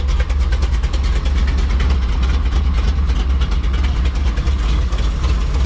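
A Chevy 350 V8 with a lumpy cam idles in a 1972 Toyota Land Cruiser, a loud, steady, close rumble with an uneven, loping pulse throughout and no talking.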